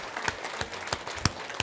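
A small group of people clapping at a workplace talk, a brief burst of scattered, uneven claps, fairly faint and a little distant, with no speech.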